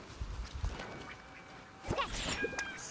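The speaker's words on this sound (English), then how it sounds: "More birds!" Ducks quacking in the game Genshin Impact, a few short calls rising over soft game ambience near the end after a quieter stretch.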